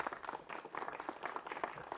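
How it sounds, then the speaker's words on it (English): Audience applause for a school performance group, dense steady clapping from a crowd throughout, fairly near and even in loudness. "A round of applause for Makutano Hamlets."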